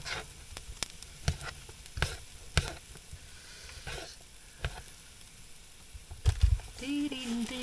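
Chunks of mushroom frying in a pan on a camping stove in a tiny camper, a soft steady sizzle punctuated by repeated sharp clicks and scrapes of stirring, fairly quiet.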